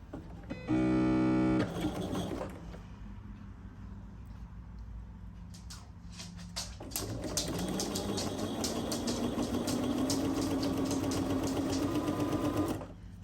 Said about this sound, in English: Probably should have oiled my machine before I sat down to sew.